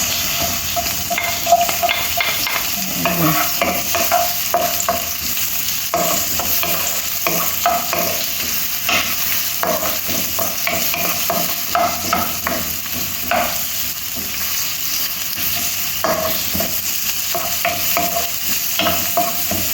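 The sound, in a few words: onions frying in a pan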